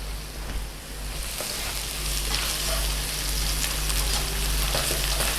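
Food sautés in a pan with a little oil, giving a steady, close crackling sizzle under a low hum for several seconds.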